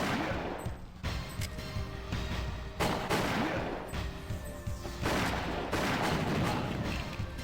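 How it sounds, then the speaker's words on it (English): Repeated gunfire from the game Winback as shots hit a boss and nearby barrels, a dense run of bursts over steady game music, fairly quiet in the mix. "we're just gonna take shots at him while shooting these barrels to do extra damage"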